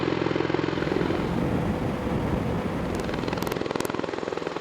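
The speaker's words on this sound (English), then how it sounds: "once airborne, its propellers can turn 90 degrees, converting the Osprey to a more fuel-efficient, higher-speed aircraft, like a turboprop aircraft" A V-22 Osprey tiltrotor aircraft flies with its propellers running, a loud, steady, pulsing rotor drone that fills the whole clip, with no voices over it.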